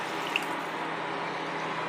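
Tamarind water pours steadily into a cooking pot for tamarind curry, a continuous close splashing trickle with no talking.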